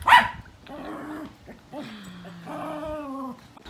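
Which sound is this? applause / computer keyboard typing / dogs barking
dogs barking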